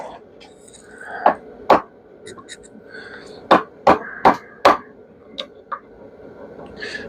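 A jammer wedge being hammered to pop copper out of scrap, a handful of sharp metallic strikes, some in quick pairs, close and loud against a quiet background.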